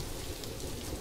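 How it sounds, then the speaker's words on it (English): Steady rain falls in the video game Planet Zoo, a dense, even hiss of raindrops with no other sounds. "Oh, it's raining."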